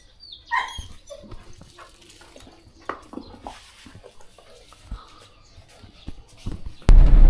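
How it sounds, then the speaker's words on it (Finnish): Dogs in the back seat of a car, excited on the way to a new cabin, yip and whimper in short bursts near the microphone amid cabin noise, with a louder thump at the end. "Koirat ottelee takapenkille."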